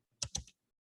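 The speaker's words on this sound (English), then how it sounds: "I'm typing." A short burst of typing on a computer keyboard: two or three quick, close keystrokes in a quiet room, then silence.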